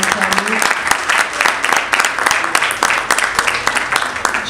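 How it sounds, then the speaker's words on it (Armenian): A crowd applauds the actors and Armen Dalakyan at a film premiere, loud sustained clapping that fills the whole stretch with some voices underneath. "ուզում եմ բարձր ծափահարենք բոլոր դերասաներին և Արմեն Դալաքյանին"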